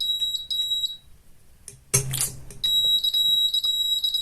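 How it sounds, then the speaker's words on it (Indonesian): A prototype IoT tornado early-warning device sounds its alarm, a piercing high electronic beep in repeated pulses that breaks off briefly under a burst of noise, then resumes as a steady tone. "di sini alarm 2 berbunyi, tanda potensi angin puting beliung"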